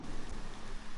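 Steady rain from a bad thunderstorm in Beaumont, Texas, a dense, even hiss of downpour with a low rumble underneath, heard faintly through a microphone with no voices.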